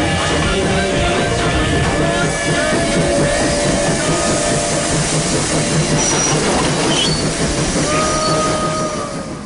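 A train runs steadily on the rails of a Bombay railway, its wheels rumbling and clattering with a few thin metallic squeals over the top. The sound stays loud and close throughout, with no talk.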